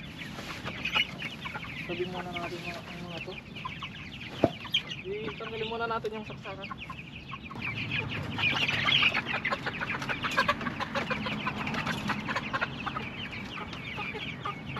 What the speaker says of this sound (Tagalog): Bali tanggalin ko muna yung mga malalaking manok.